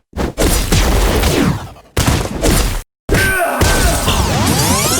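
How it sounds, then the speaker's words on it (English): Sword swipes and bullet deflections from the game Katana Zero: sharp, loud whooshing slashes and metallic deflection hits in quick bursts, broken by a brief silence, with a ringing, glinting strike near the end. "every sword swipe and bullet deflection felt so good to listen to"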